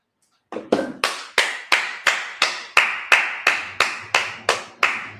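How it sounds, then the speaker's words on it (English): A congregation at a Sabbath service claps together in unison, about fourteen sharp, evenly spaced claps in a steady beat that start abruptly after a moment of silence. "let's clap it up."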